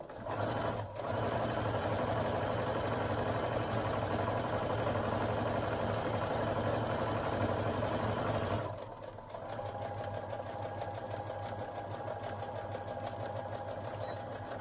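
A sewing machine stitches a seam along fabric with a fast, steady mechanical whir for about nine seconds, then slows to a quieter, lighter chatter that continues alone.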